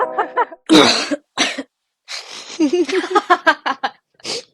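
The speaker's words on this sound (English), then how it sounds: "A theatric cough to start the hiatus." A deliberate, exaggerated cough bursts out after a brief voice, followed by a throat-clear and someone talking and laughing nearby.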